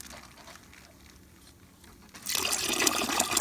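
Cold water poured into a turkey brine container arrives as a sudden, loud, steady gush after a couple of seconds of near quiet, continuing to the end.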